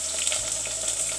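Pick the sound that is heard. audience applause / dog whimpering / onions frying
onions frying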